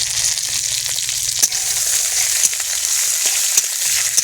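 A bay leaf split in two and five-spice seeds sizzling in hot oil in a wok, a loud, constant frying hiss broken by a few sharp pops and stirring clacks.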